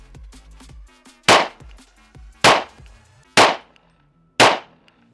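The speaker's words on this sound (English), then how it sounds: "we're just gonna check the zero and shoot this head box" DC Precision DC9R metal Glock-style pistol firing four sharp, loud shots spaced about a second apart, with softer mechanical clicks and handling noise between them.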